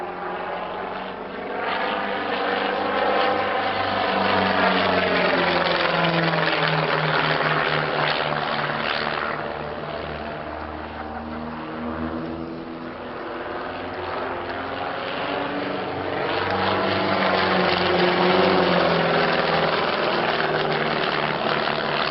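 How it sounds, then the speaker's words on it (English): Vintage aircraft flying in formation at the Shuttleworth Collection, Old Warden, England, pull up into a stall turn; steady propeller engine drone swells and fades continuously without talk. "Now, up onto the vertical, watch the speed drop away, there goes the rudder, and formation stall turn down to the left."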